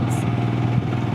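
A motorcycle cruising along a Himalayan mountain road toward Kalpa, its engine giving a steady, close, droning hum with no breaks and no talk.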